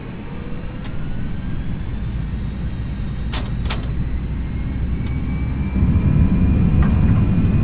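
Airbus A319 engines at TOGA thrust during a cold-weather takeoff in X-Plane 12, a steady, loud broadband roar that swells slightly toward the end.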